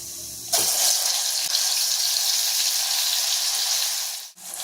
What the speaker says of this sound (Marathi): आता यात आपण हे वाटलेलं वाटण घालूया